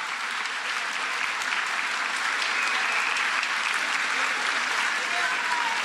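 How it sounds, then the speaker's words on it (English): Eighth graders at a middle school promotion ceremony stand and give their teachers and staff a sustained round of applause, a dense, steady wash of many hands clapping that fills the room evenly from start to finish. "I want you to give every teacher and staff member a round of applause"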